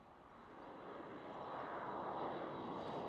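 Distant KLM Cityhopper Embraer E175 airliner at Amsterdam Schiphol, a broad jet roar that swells gradually and steadily over a few seconds with no talk.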